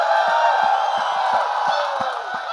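A large crowd at a film trailer launch event in Ayodhya roars and cheers for Prabhas, a loud continuous din with scattered shouts and some clapping.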